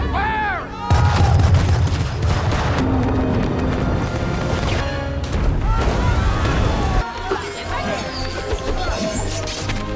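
Loud booming blasts and crackling bursts fill a dense, chaotic soundscape, with a voice speaking over the din.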